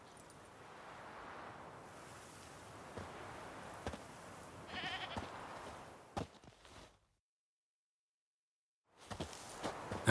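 A goat tied to a stake as forktail bait in The Witcher 3 bleats a few times amid soft wind and ambient outdoor noise. The bleating is fairly faint, and the scene drops to silence before the sound returns.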